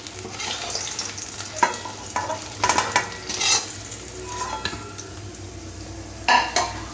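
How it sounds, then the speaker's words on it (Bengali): Eggplant slices frying in oil in a pan, a steady sizzle with scattered clinks and scrapes of a utensil stirring and turning the pieces, close and alone without talk. "ঠিক এরকম করে বেগুনগুলো ভাজতে হবে।"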